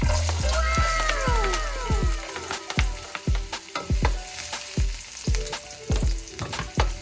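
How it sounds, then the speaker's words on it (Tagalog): Carrots fry in a pan with loud, close sizzling, broken by repeated rhythmic scraping and stirring strokes roughly every half second. "unahin na natin i-fry yung ating carrots"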